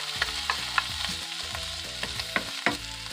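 Onions frying in a pan, a continuous sizzle broken by regular stirring scrapes and light utensil taps, close up with no voices.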